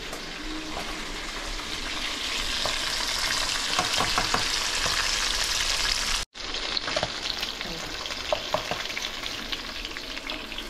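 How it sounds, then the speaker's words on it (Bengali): Tangra fish lightly frying in about three tablespoons of oil, a steady bright sizzle close by with soft stirring and spatter crackles, briefly cut off midway, no voices. "মাছটা হালকা ভাজবেন, যেহেতু এটা ঝোলে দেবো।"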